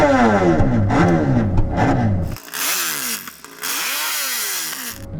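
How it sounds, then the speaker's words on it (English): A MotoGP racing motorcycle engine revs hard and close, its pitch sweeping up and down in repeated aggressive blips, then a second burst of high-revving roars. "Danny, let's have a listen to your MotoGP bike."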